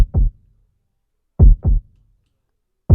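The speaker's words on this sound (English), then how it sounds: "that is how you create a heartbeat sound effect" A synthesized heartbeat sound effect layered with a deep 808 kick: loud, booming double thumps in a slow, steady rhythm separated by complete silence.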